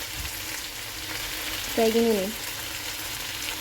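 Sate maranggi fries in a wok with a steady soft sizzle and crackle throughout, while a voice speaks briefly over it near the middle.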